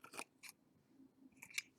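Scissors snip trim for a country-style broom doll, a few quiet crisp cuts spaced apart with a cluster of snips near the end, heard alone.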